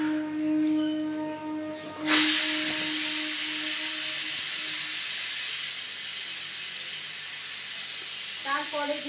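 Asafoetida (hing) drops into hot sunflower oil in a pan, setting off a sudden loud hiss that fades slowly into a steady sizzle. Just before it, a faint tonal hum plays, and a few soft clinks come near the end.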